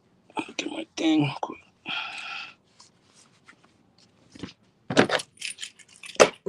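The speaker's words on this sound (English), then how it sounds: "Get my keys." Keys jingle in short bright bursts as someone picks them up outdoors, with scattered metallic rattles between brief moments of talk nearby.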